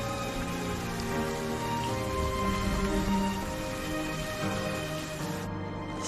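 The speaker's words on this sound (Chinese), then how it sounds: "雨下大了，咱们走吧。" Heavy rain falls steadily and densely, a constant loud wash of drops that holds unbroken from start to finish, with faint tonal hum lying underneath.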